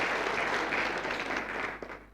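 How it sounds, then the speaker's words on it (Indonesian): A congregation claps together during a church service, a dense, loud wash of applause that holds steady and then thins toward the end. "Ya, boleh beri tepuk tangan saudara."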